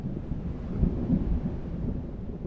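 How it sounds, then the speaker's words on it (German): Thunderstorm in the Occult co-op horror game: a low, continuous rumble of distant thunder with soft swells, heard alone with no talk. "Also Gewitter hört sich gut an, sieht semi aus."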